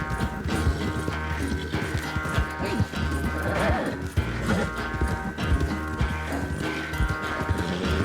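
A horse in Red Dead Redemption 2 gallops with rapid clip-clop hoofbeats and gives a neigh partway through. The sound is loud and continuous and is layered with other game sounds.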